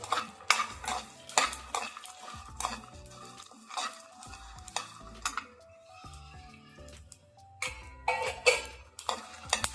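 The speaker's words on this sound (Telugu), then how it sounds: "సో వీటన్నింటినీ కూడా మంచిగా రోస్ట్ చేసుకోవాలి" Ingredients added to leftover rice are stirred and roasted over low heat in a pan, with repeated scraping and clinking of a utensil against the metal in uneven bursts, close and fairly loud, with no talking.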